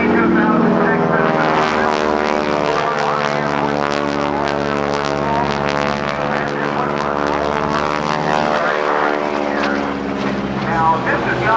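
A T-6 Texan propeller plane with clipped wingtips flies at the NAS Oceana airshow in Virginia Beach, its loud, throbbing radial-engine drone with strong harmonic layers sustained throughout, under an announcer's voice.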